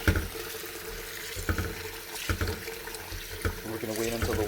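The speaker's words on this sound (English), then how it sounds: "And I'm going to proceed by adding cold water." Cold water runs from a tap into a container of soaking grain mixed with coffee grounds, a steady close splashing flow with brief clunks and a voice talking over it.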